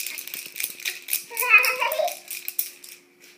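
Light jingling rattle of small baby toy keys being shaken, mixed with a child's soft babbling and giggles nearby.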